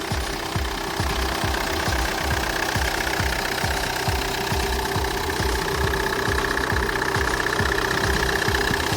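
A 2008 Kia Carnival diesel van engine idles close by with a rapid, steady knocking clatter and a constant mechanical hum.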